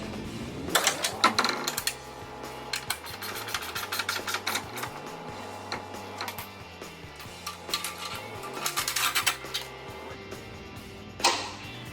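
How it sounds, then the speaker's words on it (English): Bolts on a Maximus-3 winch plate fairlead being tightened on a 2021 Jeep Wrangler Unlimited Rubicon 4xe, heard as repeated metallic ratchet clicks and wrench clatter in uneven bursts, close up, with a low background hum. "I'm going to tighten up these bolts. I'll do the Fairlead ones first."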